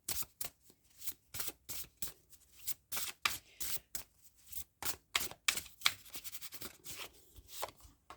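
A deck of astrology cards being shuffled, quick rhythmic riffles and flicks repeating close up with short pauses between them.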